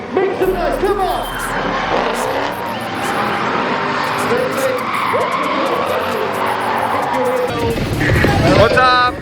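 A car drifts at a motorsport event at Aamby Valley, with loud, sustained tyre squeal and engine roar going on for several seconds under crowd noise and shouting voices.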